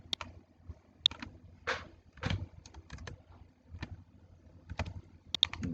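Someone types data into a database on a computer keyboard, with soft, irregular key taps in short bursts and pauses, close and fairly quiet, with no talk.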